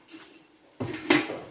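Steel kitchen utensils being handled, a soft clatter followed by a sharp metallic clink of pots knocking together, close by and brief, with no talking.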